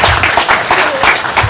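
Audience applause greets a speaker stepping up at a business talk: dense, sustained clapping from a live crowd throughout, loud and close.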